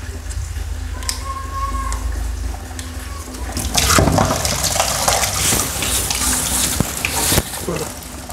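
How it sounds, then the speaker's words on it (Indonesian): Water gushing from a leaking bathroom sink faucet, a loud broad rushing stream that swells after a few seconds of quieter handling noises and runs steadily close by. "Jadi saya cukup memutarnya dan ini airnya akan keluar nanti"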